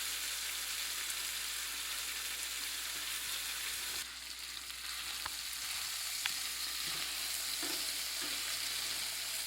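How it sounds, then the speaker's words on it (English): Mussels frying and browning in a pan for a garlic black bean sauce, a steady close sizzle with occasional clicks and stirring noises, no talking. "See, you can see them browning up pretty good."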